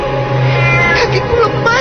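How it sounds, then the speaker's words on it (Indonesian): A meowing cat sound effect from an Indonesian radio horror drama, a drawn-out wavering meow heard loud and close over a low steady hum. "mengeluarkan bunyi suara kucing yang terdengar jelas dari mulutnya"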